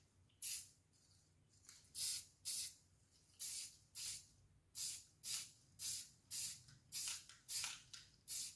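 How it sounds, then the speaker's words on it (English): A spray can applies repaint and grime effects from a distance in short, repeated hissing bursts, about a dozen evenly spaced sprays, quiet and close, with no talking. "And I spray kind of far, right?"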